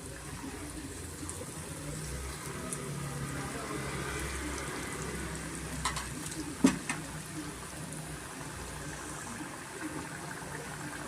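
Boondi for motichoor laddu frying in oil gives a soft, watery bubbling sizzle, with a few louder clinks partway through.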